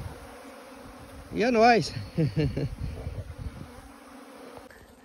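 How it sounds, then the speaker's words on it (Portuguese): A swarm of bees being captured from a termite mound hums in a steady, close buzz, continuing under a short burst of talking. "acabamos aqui de capturar as abelhas"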